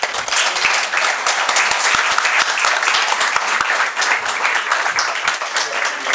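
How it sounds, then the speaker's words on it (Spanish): At a book presentation, a hall full of people gives the guest speaker a strong round of applause, loud dense clapping with sharp individual claps standing out, continuing steadily for several seconds. "Un fuerte aplauso, por favor."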